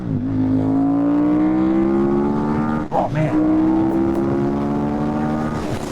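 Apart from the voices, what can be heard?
2008 KTM 990 Super Duke motorcycle engine accelerating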